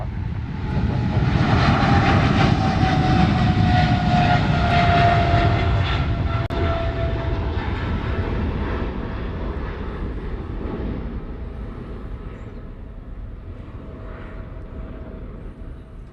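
A departing airplane roars loudly past at Honolulu airport, rising to a strong engine rumble early on and then slowly fading into the distance as it climbs away.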